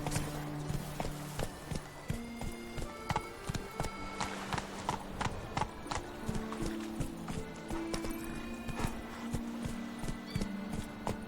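Roach, the horse in The Witcher 3 Blood and Wine, gallops in a steady rapid clip-clop of hooves, close and continuous. Tonal game music plays underneath.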